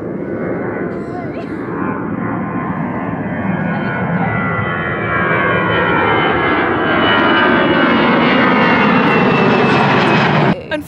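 Airplane flying overhead, a loud broad engine roar that swells and shifts pitch as it passes close above, with people talking underneath.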